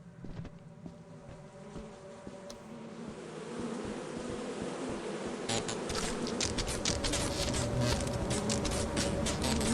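Bees buzzing around a beehive in a video game, a sustained droning hum that grows louder and busier in the second half, with no talking.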